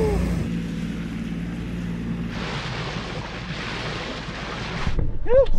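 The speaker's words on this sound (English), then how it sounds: "Getting some speed, bro." A small boat driven with both motors speeds across open water, its low engine drone running steadily under a rising hiss of spray and wind, ending in a louder burst with a short whooping voice.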